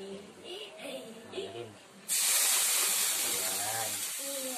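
Chopped chili hits a hot pan for sweet and spicy dilis, bursting into a loud, steady sizzle about halfway through that carries on to the end while a voice keeps talking over it.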